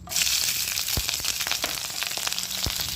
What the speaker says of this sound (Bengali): তেলটা হয়ে গেছে, এবার ফোড়ন দেব কাঁচা লঙ্কা আর 5 ফোড়ন।